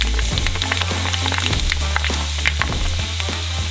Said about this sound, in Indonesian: Ini akan mulai menggoreng dan muncul seperti popcorn.